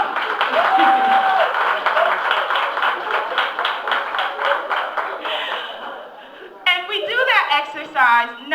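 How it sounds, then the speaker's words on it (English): A seated audience at a self-improvement talk claps in a dense, sustained round that fades after several seconds as a voice starts talking over the tail. "give yourselves a round of applause."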